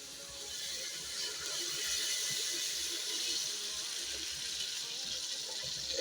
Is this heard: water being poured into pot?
yes